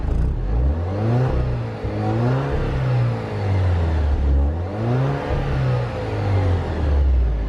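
A 2020 Alfa Romeo Giulia 2.0 with stock exhaust revs repeatedly, its pitch climbing and falling in several sweeping pulls, loud and close with a deep exhaust rumble throughout.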